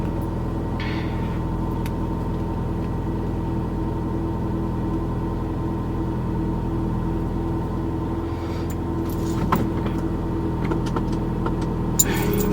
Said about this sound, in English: Y'all might hear my car a little bit.